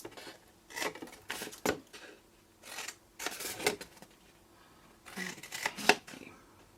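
Scissors snipping through stampin' cardstock along score lines for a petal gift bag, heard as several separate bursts of crisp cutting spaced across the moment, close and fairly quiet with short pauses between.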